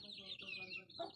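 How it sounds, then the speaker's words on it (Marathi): Chickens cluck beside a house in a Konkan village, a short close burst of hen and rooster-like calls with faint background voices. "घरा साईडला हे बघा कोंबडी आहेत."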